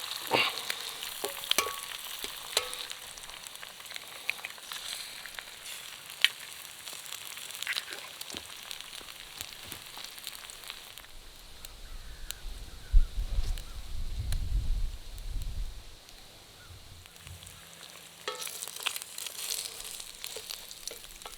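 Eggs sizzling and frying in a pan over a folding wood-burning camping stove outdoors, a steady soft crackle with occasional scraping and stirring sounds, plus a low rumble near the middle.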